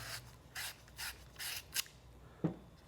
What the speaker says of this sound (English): You can also use the cleaning tool.